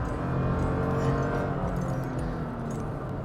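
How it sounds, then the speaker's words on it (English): A 2021 Toyota Tacoma TRD Pro pickup with a V6 engine and aftermarket exhaust accelerates, heard from inside the cabin. The engine is a moderate, muffled drone whose tone climbs gradually over a few seconds, with no talking. "The V6 doesn't sound bad"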